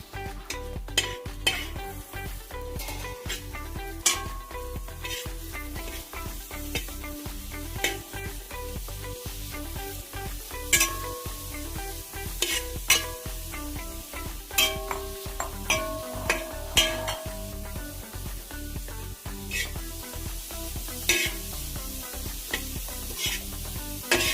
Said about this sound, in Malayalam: ഒരു ഗോൾഡൻ കളർ ആവുന്നവരെ സവാള വഴറ്റാം.